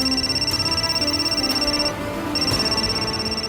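A telephone rings with a steady electronic tone, repeating in regular pulses about once per second, continuous and moderately loud with a brief pause midway.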